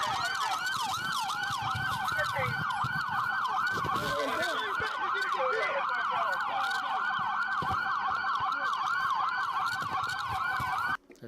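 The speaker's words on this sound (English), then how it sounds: "can we kill some sirens, pretty please?" Several emergency vehicle sirens wail together in police bodycam footage, overlapping rising-and-falling tones that stay loud and steady throughout, with engine and road noise underneath and a brief break at the very end.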